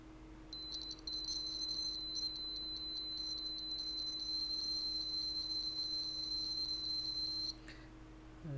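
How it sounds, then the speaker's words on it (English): A buzzer in a homemade Ghostbusters PKE meter circuit beeps in a fast, steady run of shrill, piercing tones much like a fire alarm, loud and close, over a low constant hum, then cuts off. "it seems to be beeping a bit faster than the lights, and sounds more like a fire alarm than a PKE meter"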